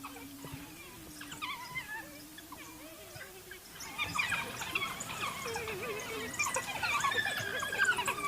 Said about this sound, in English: Bit of excitement here from our doggy dogs.